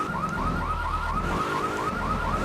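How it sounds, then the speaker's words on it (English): A car alarm on a Kuruma in the video game GTA III cycles through a rapidly repeating warbling electronic tone, loud and continuous throughout. "I'm so used to listening to car alarms now"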